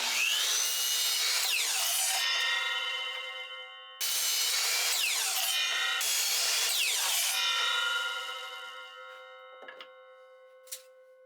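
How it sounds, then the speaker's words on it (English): Wood pieces being cut to 15 inches on a power saw, two loud sustained whining cuts with a steady tonal hum, each fading as the blade spins down, followed by a few light knocks. "So now I've just got to cut 6 more pieces to 15 inches"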